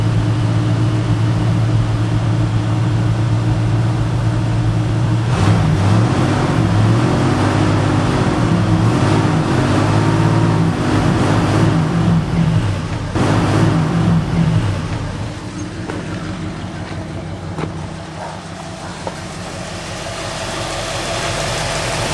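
1972 Ford F-100 pickup engine after a first-try start, loud rough idle with a couple of revs in the middle, then settling to a quieter, steady idle.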